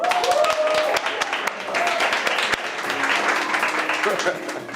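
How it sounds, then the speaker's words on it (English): Scattered audience clapping for two participants at a newsroom workshop event, with sharp individual claps ringing out over room noise and voices talking along the way. "An applause to both"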